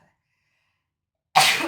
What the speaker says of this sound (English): I never fucking just sneeze once.